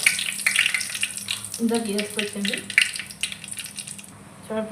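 Garlic and dried red chillies frying in oil for gongura chutney: a continuous crackling sizzle with stirring and pan knocks, close and fairly loud, with a voice briefly audible underneath.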